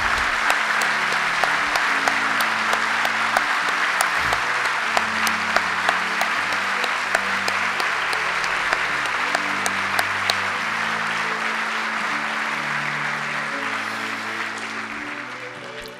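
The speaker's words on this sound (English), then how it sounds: "could we give them a warm round of applause?" A banquet audience in Alaska gives Nike missile veterans a warm, sustained round of applause, dense clapping from many hands under a piano playing chords, with a few sharper individual claps standing out before it gradually thins toward the end.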